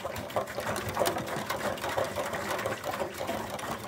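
A partly filled container of water and organic spray mix is shaken by hand to blend it, giving a close, continuous, rapid rattling slosh that keeps up a busy, even rhythm throughout.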